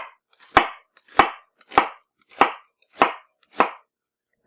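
A knife slices horizontally through an onion on a board, six crisp evenly spaced cuts at about one every 0.6 seconds, close and clear with silence between.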